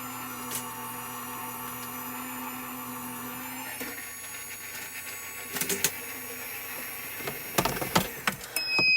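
A Gemini Foilpress hot foil machine hums steadily as paper feeds through it, and its motor pitch shifts partway. Sharper clicks and rattles of handling follow toward the end.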